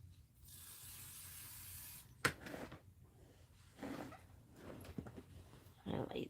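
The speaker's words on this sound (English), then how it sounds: "So I'm going to go ahead and spray this side and this side." Adhesive spray hissing onto pillow fabric for a sewing project, a long steady hiss followed by several shorter bursts, close and fairly loud over faint rustling.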